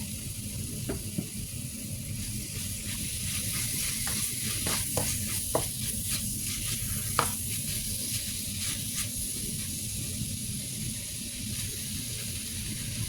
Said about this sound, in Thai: เสร็จแล้วเราก็ใส่ หมูสามชั้นลงไปเลยจ้า